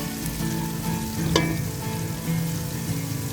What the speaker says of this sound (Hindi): जिस तरह से मैं ये लहसुन डाल रही हूँ, इसको भी मैं इस वक्त भून लूँगी हल्का सा